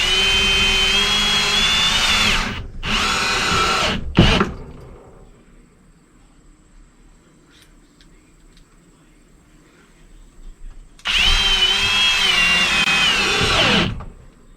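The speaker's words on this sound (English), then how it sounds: "So these are 2-inch construction screws, like I said. I'm just coming up here and just putting them in" A power drill drives 2-inch construction screws into a wooden shed shelf in loud whirring bursts, three quick ones back to back, then a quiet pause before one longer final run.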